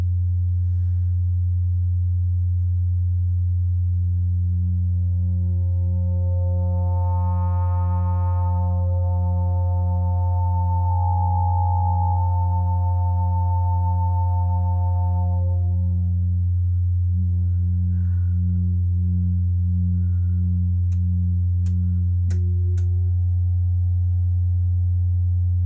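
A synthesizer tone runs through a DIY Moog-style ladder filter module built on perfboard, giving a steady buzzing drone with a pulsing, resonant filter sweep that rises and falls. A few sharp clicks come near the end, with no voices.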